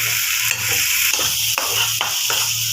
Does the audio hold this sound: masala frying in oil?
yes